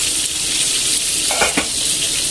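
Meatballs browning in a frying pan make a loud, steady, close sizzle, with a couple of quick utensil scrapes against the pan partway through.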